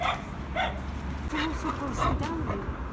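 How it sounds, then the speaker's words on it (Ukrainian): A dog barks repeatedly in short yaps and yips, mixed with people talking over a constant low background rumble. "Бакс, що ти гавкаєш?"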